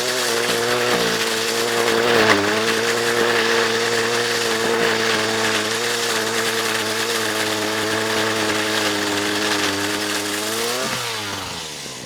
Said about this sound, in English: Anytime you get a pole saw ripping and those branches falling